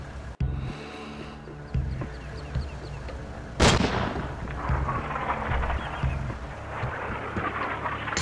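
Sniper rifle fire in the video game Sniper Ghost Warrior, with a sharp crack near the start and a louder, broadband shot around the middle that rings out over a busy background of music and ambient game noise.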